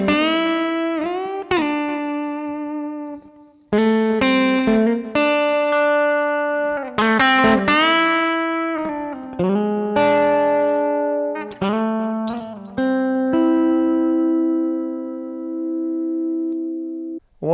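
Electric guitar with distortion and effects plays a fast, expressive solo lick, a run of sustained bent notes and quick phrases with short pauses between, loud and up close, with no talking.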